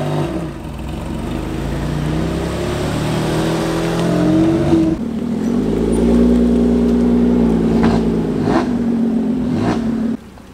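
Cars pulling into a car meet in Tuusula, Finland, engines running loudly and close, with one revving and accelerating midway while others idle and rumble throughout.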